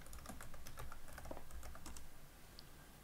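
Rapid key clicks from typing a username and password on a computer keyboard to log into a Windows server over Remote Desktop, a steady close run of light taps with no voices.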